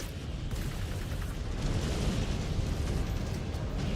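Missile impacts in Mechwarrior 5: Clans form a continuous roaring barrage of overlapping blasts, loud and dense for the whole stretch, with no voices.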